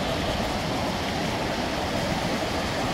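Fast creek water running high after floods in Gilmer, a steady broadband rush and roar that stays loud and unbroken, close by, with no voices.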